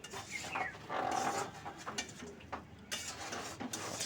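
A spatula scrapes and stirs cabbage curry with fish head in a pan, soft irregular metallic scraping and clinks, close and fairly quiet.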